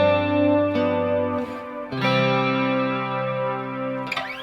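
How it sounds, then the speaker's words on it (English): Sustained chords on an effects-laden electric guitar with distortion and chorus move from the five chord to the one chord in a perfect cadence, ringing out loud and alone, with a brief strum near the end. "So we would call that like a perfect cadence."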